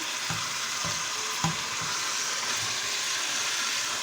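Minced meat and ham brown in a saucepan for a tomato meat sauce, giving a steady close sizzle and crackle of frying with occasional soft scrapes and stirring knocks, no voices over it.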